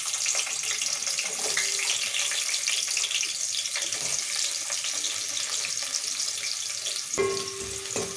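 Onions frying in oil in a pan for an aloo, tomato and fenugreek leaf curry, giving a steady, close hiss of sizzle with no one speaking.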